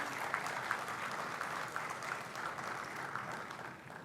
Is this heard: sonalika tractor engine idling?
no